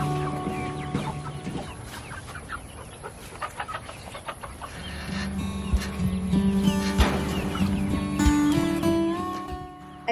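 Small chickens inside a moving chicken tractor cluck and chatter repeatedly, close by, with scattered clucks early and a busier chorus over faint rattling in the second half.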